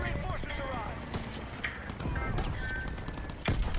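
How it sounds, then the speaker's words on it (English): Rapid bursts of automatic gunfire from the World War II shooter Call of Duty WW2, crackling loudly and continuously over game noise with people talking throughout. "Oh, I'm just shooting."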